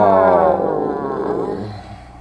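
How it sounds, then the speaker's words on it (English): A person yawns aloud with a drawn-out voiced groan, loud and close at first and then trailing off over about two seconds, heard alone. "Yawning."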